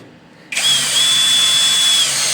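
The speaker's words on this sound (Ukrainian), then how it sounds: "Коли витягли, дотягуємо ці болти. До упора" A power drill drives home the mounting bolts of a wall-hung toilet, starting abruptly after a quiet moment and then whirring loudly and steadily up close.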